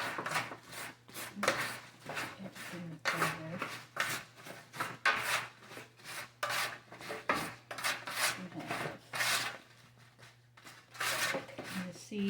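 A spoon scrapes and rubs repeatedly as garlic is spread over a raw pork tenderloin, a steady rhythm of soft rasping strokes close by, with a person talking over it.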